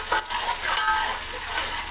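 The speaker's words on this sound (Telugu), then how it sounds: "ఈ అల్లం వెల్లిగడ్డ పేస్ట్ వేయాలి." Ginger garlic paste frying in a pot for mutton biryani, a dense close hiss of sizzling oil with faint stirring underneath, steady and without talk.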